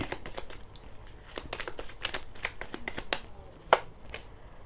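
Tarot cards riffle and flick in a series of quick, crisp shuffling snaps, close and fairly loud, with short pauses between bursts and one sharper slap near the end.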